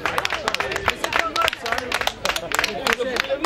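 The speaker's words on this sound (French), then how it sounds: "On peut les applaudir." A live audience claps for third-place winners at an event: a short burst of dense, lively applause with voices and cheers mixed in.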